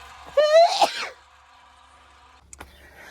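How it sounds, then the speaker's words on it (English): A single loud, close sneeze from dust with a sharp gasping onset, followed by quiet background and a faint click, inside a camper van. "Ooh, this dust making me sneeze."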